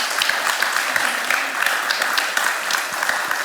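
A crowd at a gathering applauds steadily for a few seconds, a dense, even clapping throughout.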